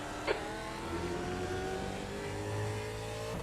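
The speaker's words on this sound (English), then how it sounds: "Faster cars approaching." Faster race cars closing in during an iRacing session at Zolder, with a steady engine drone and layered engine tones building as they approach, loud and alone.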